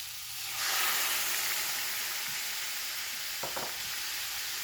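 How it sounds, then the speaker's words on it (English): Onions browning in a pan after pork was cooked in it: a loud, steady frying sizzle that swells in as they hit the pan, with a couple of brief stirring clicks later on. "Then after you take the meat out of the pan, just add the onions. Try to brown them on both sides."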